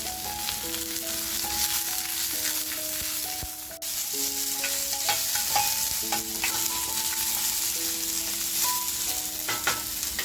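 Green chillies fry in a pan of oil while clams masala fry is being cooked. A steady, bright sizzle with occasional stirring clatter runs throughout, over soft background music.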